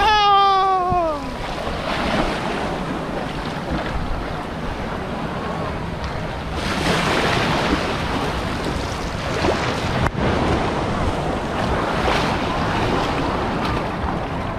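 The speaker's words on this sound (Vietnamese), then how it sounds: "Vô sóng rồi vậy, chuẩn bị cái sóng này rồi vậy." Surf rolls and breaks steadily at Bai Sau beach in Vung Tau, Vietnam. Broad, continuous wash swells in surges around the middle and end, with wind buffeting the microphone and a brief rising whistle at the start.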